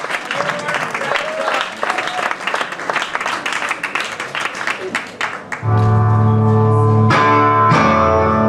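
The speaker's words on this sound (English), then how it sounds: "Give the next round of applause to yourselves because you deserve it too" Concert audience at the Blue Bird Festival in Vienna claps in a dense, uneven burst of applause for about five seconds. A sustained electric guitar and band chord then rings out loud and steady over it.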